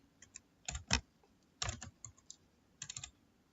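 Several short bursts of typing on a computer keyboard, clustered keystrokes separated by brief pauses, close and fairly quiet with no talking.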